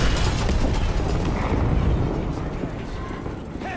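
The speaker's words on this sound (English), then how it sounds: "I need to take out my C4" C4 explosive detonated in Call of Duty Black Ops 6, a loud, dense roaring blast that rumbles and slowly subsides over a few seconds, with a voice mixed into the noise.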